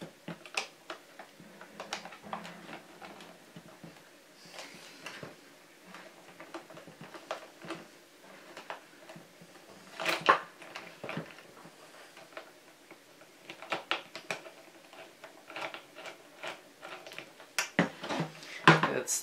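Torx screws come out of a Gazelle Innergy li-ion e-bike battery pack with scattered small clicks and ticks of the tool against the screws and casing, quiet and close, with sharper clusters near the end.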